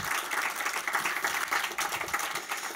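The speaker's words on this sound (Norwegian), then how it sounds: "Jeg synes det fortjener en liten applaus" Audience applause at a panel event on young people outside working life, a dense patter of clapping hands carrying steadily from start to finish with no talk over it.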